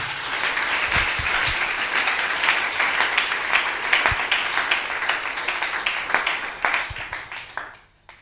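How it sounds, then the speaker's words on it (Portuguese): A church congregation claps together in a dense, sustained wash of applause at close range, with a few louder claps and thumps, before it fades out. "Aplauda o Senhor, igreja."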